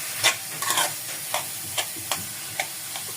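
Mashed boiled potatoes being stirred and pressed into a pan for aloo kulcha filling: a run of distinct scraping strokes, about one every half second, over a low frying hiss, close and without voices.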